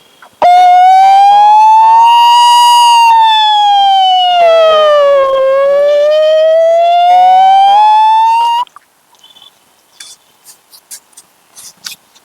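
A voice imitates a fire engine siren: one long, loud wail rising and falling slowly for about eight seconds, then a few faint clicks.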